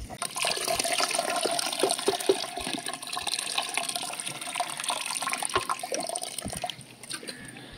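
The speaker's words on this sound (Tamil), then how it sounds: "அக்கா புளி ஊத்துறாங்க பாருங்க." Tamarind water splashing and trickling steadily into a pot of fish curry for several seconds, close by, with small clinks and bubbling, tapering off near the end.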